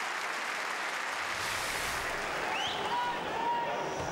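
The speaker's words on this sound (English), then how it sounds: "a minute's applause to celebrate the life of former Hearts youth player Jamie Skinner, who passed away last week." A football stadium crowd gives a minute's applause before a Hearts versus Kilmarnock match, a broad, steady roar of clapping heard from a distance with a commentator talking over it.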